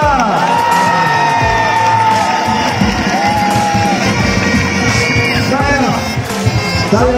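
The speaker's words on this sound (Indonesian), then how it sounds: "kita berikan tepukan kepada untuk penyokong-penyokong kita" A large crowd at the opening ceremony of the SUFA USIM 2019 sports event, with athletes and marching teams present, cheers and shouts loudly and continuously, with voices calling out over the din.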